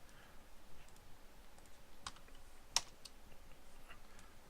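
Faint, sparse clicks of typing on a computer keyboard while entering code, with one sharper keystroke standing out over a quiet room hum; no one speaks.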